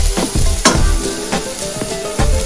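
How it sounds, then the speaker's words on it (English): Onions sautéing in a pan for masala fish and chips, a close crackling sizzle broken by several stirring scrapes and soft knocks at an uneven rhythm. "and then I'm going to add some onions. Fry those."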